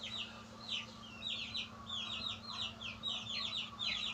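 Chickens murmuring and clucking in soft, repeated short calls, several birds close together over a steady low hum, fairly quiet overall with no talking.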